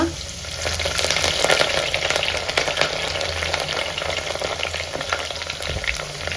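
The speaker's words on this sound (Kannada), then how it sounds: "ಇದಕ್ಕೆ ನಾವು ಈರುಳ್ಳಿ ಹಾಗೂ ಕರಿಬೇವು ಸೇರಿಸ್ಕೊಳ್ಳೋಣ" Onion and curry leaves fry in hot oil in a pan, giving a steady close sizzle with faint stirring scrapes throughout and no talk.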